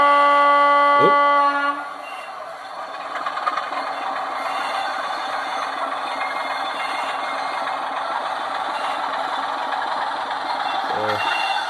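Model diesel locomotive on a live-steam garden railway layout, its sound system giving a loud horn blast at the start, then a steady engine rumble that runs on, with a second brief horn note near the end.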